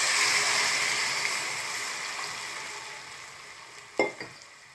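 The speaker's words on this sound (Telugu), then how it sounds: "పులుసుని యాడ్ చేసుకున్న తర్వాత స్టవ్ని మీడియం ఫ్లేమ్లో పెట్టుకొని ఇలా కలుపుకుంటూ" Ground fish curry gravy goes into a hot pan over garlic, ginger and curry leaves, giving a broad steady sizzle that slowly fades, with a couple of brief stirring clanks near the end.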